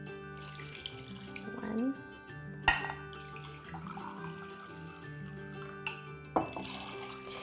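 Two cups of water pour from a kitchen tap into a pot holding anchovies in a tea strainer for kimchi stew, a steady splashing stream with a clink of dishes, a voice speaking briefly over it.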